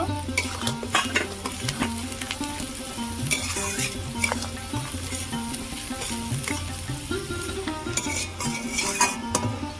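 Slit green chillies frying with potatoes and eggs in a pan, a steady crackling sizzle broken by scrapes and clinks of a spatula against the metal, close and alone.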